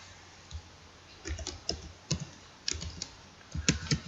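Irregular clicks of computer keyboard typing while entering figures into Microsoft Excel, short bursts of close keystrokes with pauses between, no talking.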